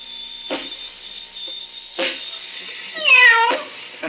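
A kitten gives a short, clear meow, close and fairly loud, after scattered soft thumps and clicks over a steady hum from equipment.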